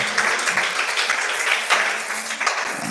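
Children applaud at a church Sunday school Christmas gathering, producing a thick, continuous wash of clapping from many small hands. It stays close and steady for the whole stretch, with faint room voices mixed underneath.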